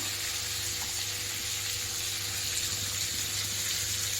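Eggs frying in a pan where potatoes were cooked, a constant soft, hissing sizzle held evenly at moderate volume with no voices or other clear events.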